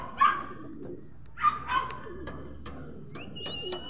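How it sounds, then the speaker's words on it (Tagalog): Racing pigeons coo in a few soft, throaty bursts at a loft, with brief chirps and a higher whistle-like call near the end, close by over quiet background. "Ayun mga kalapatids"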